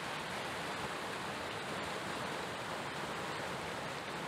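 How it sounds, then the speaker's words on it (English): A small waterfall on a river pours in a steady, full rush of water that stays constant throughout, with no voices. "We make a first stop by this small waterfall,"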